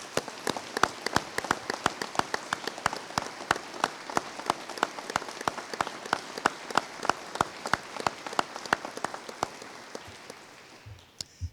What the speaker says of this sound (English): how about a large round of applause for all of today's enshrinees?